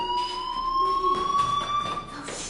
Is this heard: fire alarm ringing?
yes